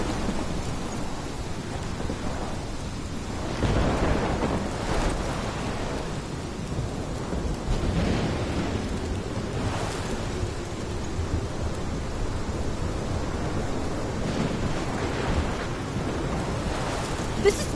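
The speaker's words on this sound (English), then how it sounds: "This is my storm." A thunderstorm rolls through in the video game Life is Strange Remastered, with continuous heavy rain and low rumbles of thunder swelling at intervals, steady and enveloping with no voices.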